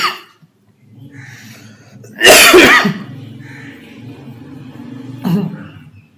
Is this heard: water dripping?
no